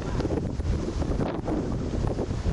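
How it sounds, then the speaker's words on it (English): Strong wind buffeting the microphone at an outdoor sports event, a loud continuous low rumble with gusty surges and no talking. "By far the story of the weekend has been the wind."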